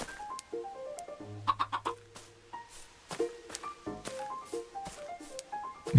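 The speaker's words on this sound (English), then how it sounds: "Let's get the chickens." Blocky Minecraft chickens cluck in short, scattered bursts amid game tones and background music, close and moderately loud, with no talking.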